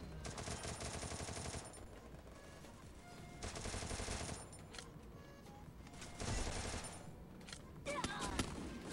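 Bursts of gunfire, including shotgun blasts, sound during a Garena Free Fire match, with several loud volleys separated by quieter gaps and background game noise.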